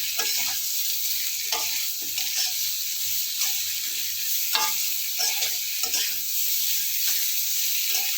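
Potato pieces with turmeric sizzle and hiss in hot oil in a pan, with a spatula scraping and stirring at a regular rhythm, close and moderately quiet, no voices.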